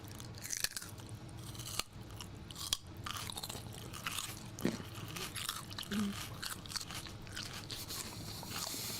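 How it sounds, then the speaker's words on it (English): Close crunching of raw carrot as a healthy snack, with repeated bites and chewing in an uneven rhythm over a steady background hiss for several seconds. "now going to use some carrot ASMR"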